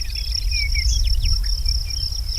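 Crickets chirp in a steady high trill, with a few brief bird-like chirps layered over a low background rumble.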